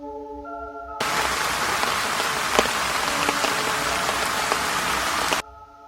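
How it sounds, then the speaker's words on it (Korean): Heavy rain pounds the vinyl roof of a greenhouse, a dense, loud, continuous drumming that starts abruptly, holds steady for several seconds, then cuts off. "세찬 빗방울이 비닐하우스 천장을 때리는 소리가 커져갔다."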